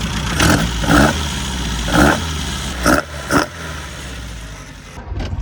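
A Classic Mini engine fitted with a 7 port head, idling loudly and close with a steady low rumble, broken by several short throttle blips that rise and fall in quick succession.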